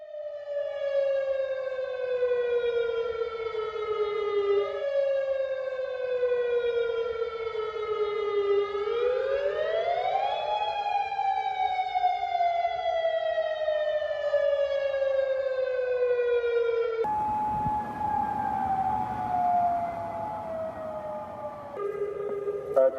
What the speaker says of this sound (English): A tsunami warning has been issued for this area. Move to high ground immediately.